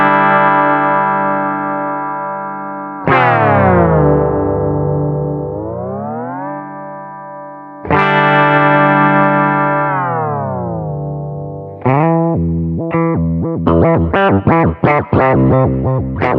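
An electric guitar runs through a DigiTech Whammy pedal in a harmony tremolo setting. Sustained chords swoop in pitch, and a fast choppy pulsing takes over near the end, loud and without talk.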